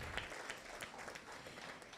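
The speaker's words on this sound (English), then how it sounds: "give us a hand clap for Felicia Moore." A banquet audience claps for a raffle winner, a faint, scattered patter of hands heard from a distance in a large room.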